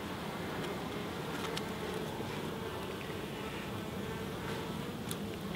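Honey bees buzzing around an opened hive during a UK hive inspection, a dense continuous drone close by with occasional individual bees passing near.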